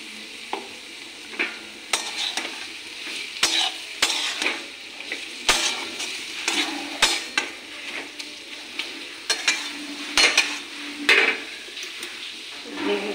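Shrimp with cucumber fry in a pan over lowered gas, with a steady sizzle under repeated sharp clinks and scrapes of a utensil stirring against the metal, close and irregularly paced.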